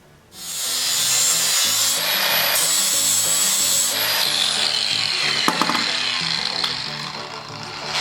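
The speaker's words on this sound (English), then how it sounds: "So this bolt is all kind of mushed on there, so I'm going to have to cut that off, grind it off" A power grinder cuts off a mushed bolt on a 1953 reel mower, a loud continuous high-pitched metal grind that holds for several seconds with brief pitch shifts and a few sharp crackles, without speech.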